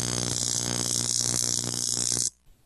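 A plug-in microcurrent oxygen facial device gives a loud, steady electric buzz with a bright, whining edge, running alone for about two seconds before cutting off abruptly.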